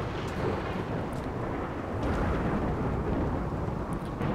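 Rolling thunder from a lightning storm in the colony game RimWorld, a steady broadband rumble lasting several seconds at a constant level, with faint crackles on top and no voices over it.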